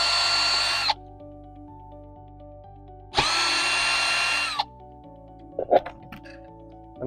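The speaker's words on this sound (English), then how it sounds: "using the T20 bit on the drill, remove the screws holding the board in place." Power drill fitted with a T20 bit backing out screws that hold a board in place, two bursts of high whining motor, the second longer, followed by small clicks and handling noises in a quiet room.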